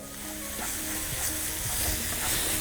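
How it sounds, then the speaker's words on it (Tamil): Masala sizzles and fries steadily as it is tossed and mixed in a small pan in a Tamil television cooking-show kitchen, a continuous close hiss with soft stirring knocks and no talking. "நான் சின்ன பேனில் வந்து டேரெக்டாக டாஸ் பண்ணி இதில் மிக்ஸ் பண்ணுறேன்"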